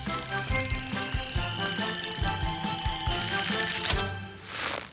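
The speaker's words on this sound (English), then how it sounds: "your winch to lower me down!" A cartoon tow truck's winch lowers its load at Gecko's Garage, a loud rapid run of mechanical ratchet clicks and gear whirring that rattles on steadily, then stops with a brief whoosh.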